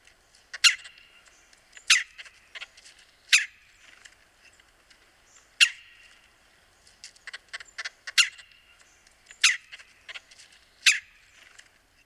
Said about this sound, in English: So here is a red-bellied woodpecker.